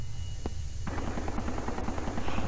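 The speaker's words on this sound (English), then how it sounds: "Gunshots." A single sharp shot rings out in a video game, then a rapid burst of automatic gunfire rattles steadily until the end, loud and close over a low rumble.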